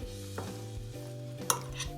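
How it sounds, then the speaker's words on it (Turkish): Soft scraping and light taps of a utensil stirring a vegetable fritter batter with dill in a bowl, brief and close, with a few small clinks. "Daha sonra karıştırıyorum."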